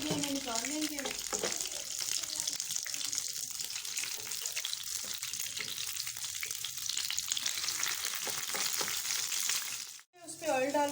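Keema burger patties sizzle and fry steadily in a pan, a loud continuous crackle throughout with someone speaking briefly at the start, then a short dip near the end.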